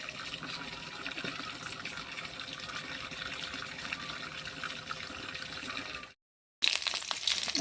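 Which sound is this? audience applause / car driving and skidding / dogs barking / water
water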